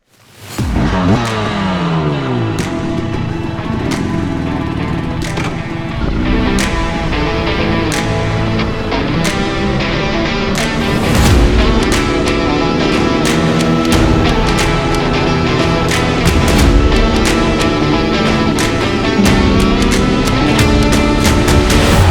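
A Throne SRPNT electric motorbike rides off-road. A loud motor whine rises and falls in pitch as it accelerates, with wind rush and sharp bumps, and no talking.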